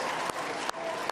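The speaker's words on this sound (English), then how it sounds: "audience here, including Erica Betts, is applauding that news" A live studio audience at Tasmania's 2024 election night coverage applauds news of the result, a steady dense wash of clapping filling the whole moment with brief sharper bursts.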